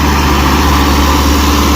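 A tractor engine roars loud and steady as it strains up a steep stunt ramp at a rural tractor stunt contest, a dense, continuous low rumble with no pauses.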